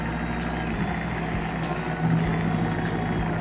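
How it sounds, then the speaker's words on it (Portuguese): A ship's engine runs aboard the vessel as a loud, steady low rumble and drone, continuous and unchanging, with no talk over it. "de motor funcionando. Na minha cabeça parecia ônibus, mas agora descobri que é do navio"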